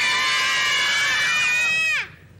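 A loud, sustained yell from a children's television show, one long shouted note held for about two seconds before breaking off sharply, close and alone.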